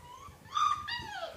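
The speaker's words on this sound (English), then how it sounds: "He's a nice big puppy too." A big young puppy whimpering, a couple of thin, high, wavering whines close by, rising and falling over a quiet background.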